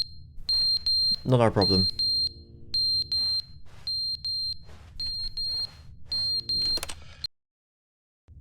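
Smoke alarm in The Stanley Parable: Ultra Deluxe beeping in a steady repeating pattern of sharp high-pitched chirps, with a voice speaking briefly over it before it cuts to silence.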